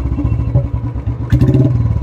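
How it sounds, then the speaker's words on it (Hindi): A Royal Enfield Classic 350 BS4 motorcycle idles after starting, its single-cylinder thump beating in a steady, loping rhythm, close and loud, with a brief clatter midway. "गाइस हमारी गाड़ी चालू हो चुकी है"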